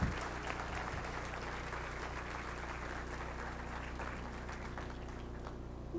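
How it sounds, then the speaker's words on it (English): Sustained audience applause at the dedication of the Tandy Building at the OSU Center for Health Sciences, with steady dense clapping from an indoor crowd throughout. "let's give them all a round of applause."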